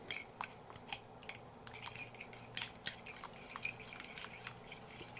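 A utensil mixes pancake batter with banana in a bowl, producing quiet, irregular clinks and taps against the bowl at close range, with no talking.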